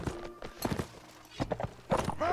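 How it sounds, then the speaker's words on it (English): Horse archers' hooves galloping in the Mount and Blade Warband video game, uneven clip-clop bursts in rapid clusters with a whinny near the end, fairly close. "Oh my god, horse archers!"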